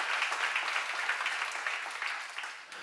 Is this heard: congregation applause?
yes